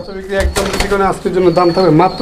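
Pigeons coo close by in low, throaty repeated calls, with voices talking over them.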